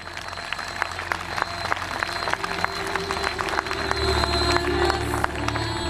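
An audience at an outdoor site applauds the volunteers who run it, steady clapping from many hands that swells slightly toward the end, with a low rumble beneath.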